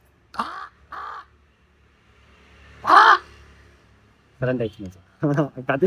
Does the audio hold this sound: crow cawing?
yes